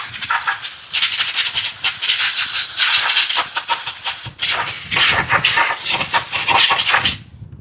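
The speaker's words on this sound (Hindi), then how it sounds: "चलिए थोड़ा यहाँ पे एयर गन का यूज़ करते हैं, चैन हमारा परफेक्ट क्लीन होगा" An air gun blasts compressed air onto the diesel-soaked chain of a Honda SP 160 motorcycle, a loud, steady hiss roaring almost without a break, briefly dipping once before cutting off near the end.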